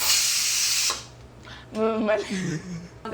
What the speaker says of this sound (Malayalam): ആവി പോകുന്നതാണ് അവിടെ വെയിറ്റ് ചെയ്യണം